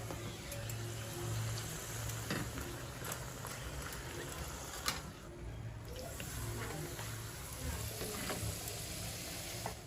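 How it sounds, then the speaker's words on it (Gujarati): Leftover rotis fry in oil over medium heat until crisp, giving a quiet, steady bubbling sizzle with occasional faint pops and clinks throughout. "આપણે એકદમ કડક રોટલી તળી લીધેલી છે ખાખરાની જેવી"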